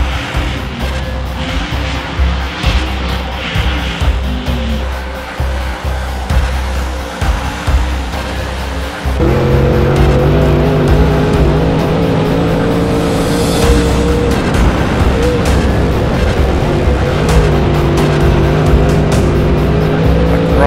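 A UMP Modified race car runs a qualifying lap. The engine drones and revs through the corners, then bursts louder into a sustained high-revving roar down the straight, with no talk over it.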